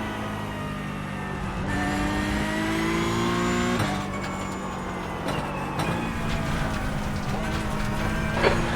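Several Porsche Cup race car engines roar together in the iRacing simulator at Indianapolis, their pitch rising and falling through gear changes and a chicane, loud and continuous with sharp shift cuts.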